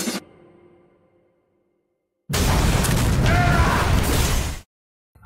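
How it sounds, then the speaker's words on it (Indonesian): A grenade blast in a shootout from a TV series: a loud, dense burst of explosive noise lasting about two seconds after a short silence, preceded by a fading low rumble. "Di tengah-tengah itu, Inarko datang dan melemparkan granat."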